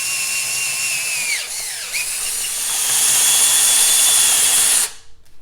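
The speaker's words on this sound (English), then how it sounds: "So I'm going to drill this out to 3/8 and counterbore it" Power drill boring a metal flap hole out to 3/8 inch before counterboring, a steady high whine that dips in pitch twice as the bit bites, then runs loud and even for several seconds before cutting off abruptly.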